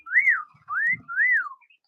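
Three clear rising-and-falling whistles in a row from a canary, each about half a second long, bright and close with brief pauses between.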